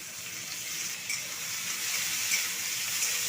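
Potatoes coated in salt and turmeric fry in hot oil with chopped onion and dried chilli, giving a steady, close, even sizzle with no talking.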